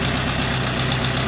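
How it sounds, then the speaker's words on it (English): A Jeep YJ engine idles close by with a fast, steady ticking and puffing in its exhaust note from an exhaust leak. "that's an exhaust leak"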